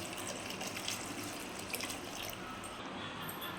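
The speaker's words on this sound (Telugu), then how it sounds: "ఇందులోనే వాటర్ వేసుకోవాలండి" Water pours steadily into a pressure cooker holding dal with green chillies, tomato, onion, garlic, tamarind and ginger, a continuous soft splashing and trickling at close range in a home kitchen.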